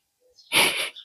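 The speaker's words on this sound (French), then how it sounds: "Et je vais encore éternuer." A woman sneezes once, a short sharp burst with a faint intake of breath just before it, close and clear in a quiet room.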